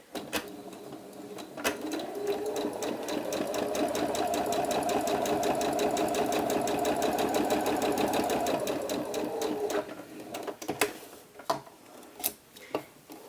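A sewing machine runs one long continuous stretch sewing gathering stitches in extremely lightweight fabric, a steady close whir of about eight seconds that stops and gives way to a few scattered clicks and handling knocks.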